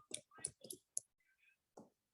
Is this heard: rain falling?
no